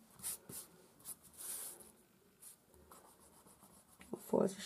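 Pencil lines on a paper-crafting mini album are rubbed out with an eraser in short, quiet scrubbing strokes, fairly close and soft.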